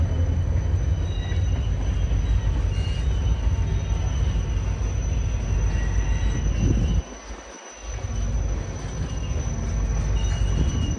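A Norfolk Southern freight train rumbles past steadily and loudly with a constant low roar and faint wheel squeals, briefly dipping before the rumble returns.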